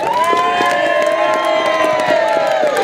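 A crowd cheers and whoops steadily at the 2017 Olney pancake race as runners pass, with loud sustained shouting and high-pitched voices blending into a continuous roar.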